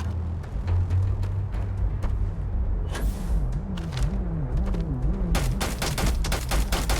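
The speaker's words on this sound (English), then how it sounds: "I'll shoot this at it a few times." Rapid bursts of gunfire ring out from a weapon in the Starfield video game, clustered volleys with a swooping tonal effect in the middle, loud and close throughout.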